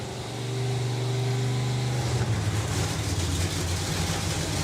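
A nitro drag car engine fires up on methanol, first a steady low harmonic rumble, then breaking into the loud, rough, crackling nitro roar that stays close and sustained, at Bug Jam Festival.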